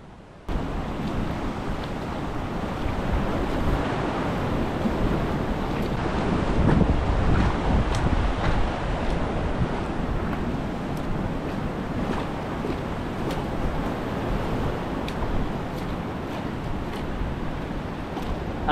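Ocean waves surging against a rocky cliff edge at the Bay of Islands, a constant roar of surf and spray with a swelling rush midway, heard close up under gusting wind buffeting the microphone.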